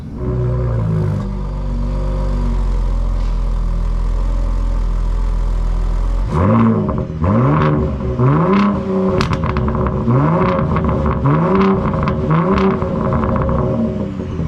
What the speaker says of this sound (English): has that loop exhaust. Sounds like a Nissan Skyline GTR.